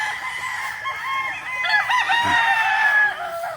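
A battle stag gamecock rooster crows nearby in a long, wavering call lasting several seconds, with a hint of clucking underneath and farmyard ambience around it.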